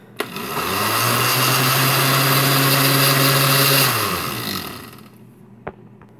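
A blender mixes cherry Jell-O with the lid on, running as a loud, steady motor whir for about four seconds before spinning down, followed by a brief clink.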